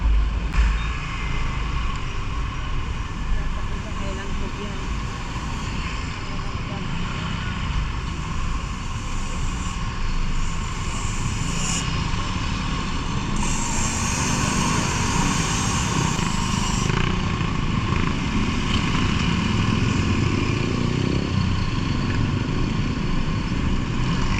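A 2014 Honda TMX Supremo motorcycle rides on a road from Imus to Baclaran in the Philippines, its steady engine drone and road noise running loud and continuous throughout with no talk.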